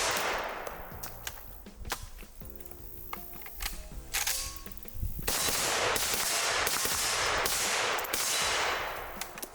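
A suppressed IWI Galil Gen 2 fires supersonic 7.62x39 rounds outdoors. Sharp cracking shots come first singly, then in a rapid string of loud reports near the end, with almost no talking.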